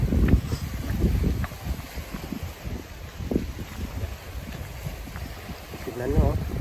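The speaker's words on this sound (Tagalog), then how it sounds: "lakas ang hangin" Strong wind blows by the sea near rocky shoreline formations, gusting rumble and buffeting against the microphone in uneven bursts, with someone speaking intermittently underneath.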